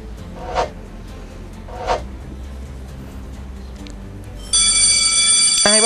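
A bright electronic buzzer or bell rings on a Vietnamese television game show as a contestant presses the answer button, a sustained harmonic tone starting about two-thirds through and lasting to the end, after two brief soft taps.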